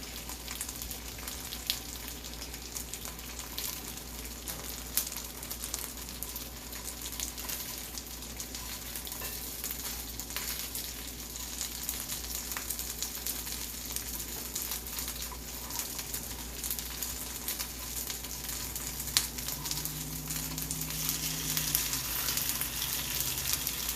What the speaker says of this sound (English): you're just going to kind of fry them till they're golden brown on both sides